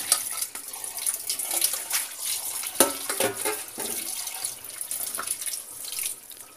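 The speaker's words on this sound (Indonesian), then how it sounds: "Kolang-kaling dicuci sebelum direbus." Tap water runs steadily over sugar palm fruit (kolang-kaling) being washed in a kitchen sink, with splashing and soft knocks from handling close by and no voices.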